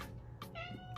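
A house cat gives one clear meow for attention, close and fairly quiet, over steady room noise.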